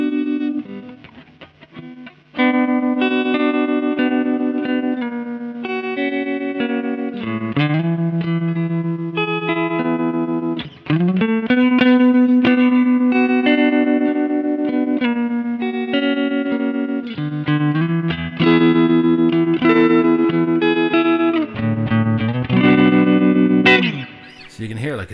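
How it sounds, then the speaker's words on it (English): Electric guitar chords through an MP Custom FX Voodoo Vibe pedal set to tremolo, pulsing in steady volume waves as the rate is raised, with sustained ringing chords played close and loud for about twenty-five seconds. "it's just a really nice sounding tremolo"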